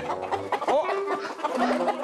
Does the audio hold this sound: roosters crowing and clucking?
yes